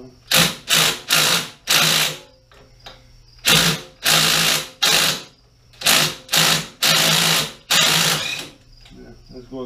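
A 1 1/16 socket wrench ratchets in short rhythmic bursts of crisp clicking, pausing between strokes, while loosening a bolt during disassembly of a Pratt & Whitney Model B 12 x 30 lathe.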